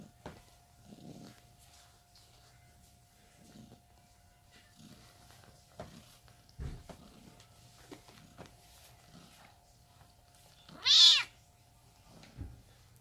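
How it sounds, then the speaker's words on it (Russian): A ginger cat gives a single clear, fairly loud meow near the end, preceded by quiet room sounds and soft shuffling bumps. "Растет уже кот, конечно."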